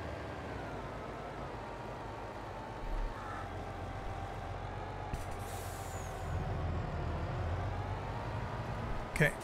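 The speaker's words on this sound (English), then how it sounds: "I'm just gonna park the truck right here for now." A truck parks in Farming Simulator 22 with a steady engine drone throughout, and a sharp air brake hiss bursts out near the end, along with a few brief mechanical clunks.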